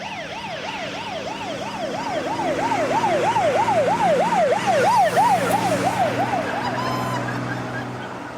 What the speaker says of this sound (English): Now it's a siren.